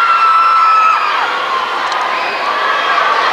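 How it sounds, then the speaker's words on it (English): Netball crowd at the Glasshouse cheering and whooping while trying to get the wave going, a broad continuous roar of many voices at distance, steady throughout. "And the crowd at the Glasshouse trying to get the wave going."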